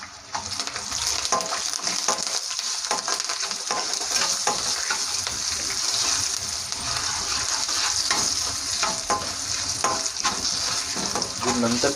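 Gongura pickle ingredients with dried red chillies are stirred and mixed in a hot pan, a steady sizzle with repeated scraping strokes of the spoon running throughout, no talk.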